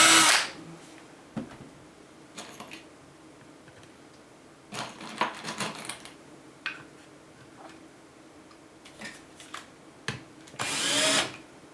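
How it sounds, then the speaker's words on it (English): A drill bit is sharpened in short bursts of grinding, several separate whirring pulses with quiet gaps, the last one longer and loudest. "time to sharpen this bit"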